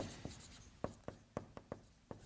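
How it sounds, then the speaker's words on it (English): A pen scratches across a piece of paper in about seven short, distinct strokes at an uneven rhythm, quiet and close, with no talking. "on a piece of paper, I want you to write down what's"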